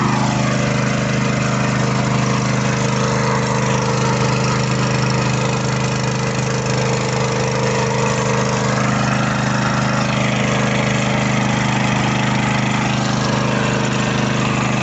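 A small petrol-powered irrigation water pump, driven by a motorcycle engine, runs steadily and loudly for the whole stretch, a continuous droning hum with no break and no voices.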